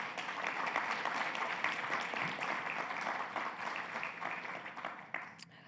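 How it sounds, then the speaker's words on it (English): An audience at a cancer and melanoma session breaks into steady, dense applause for caregivers, a broad wash of clapping from a sizable crowd that holds evenly for about five seconds before tapering off, faint and somewhat distant. "let's just take a minute and give our caregivers a round of applause"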